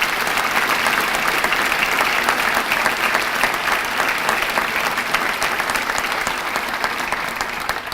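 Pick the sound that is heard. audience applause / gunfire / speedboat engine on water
audience applause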